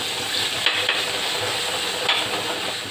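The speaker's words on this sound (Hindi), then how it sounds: "घी हमारा गर्म हो रहा है, पहले हम इसके अंदर लहसुन डालेंगे" Garlic sizzles in hot ghee in a pan, a steady close frying hiss with a few light stirring clicks.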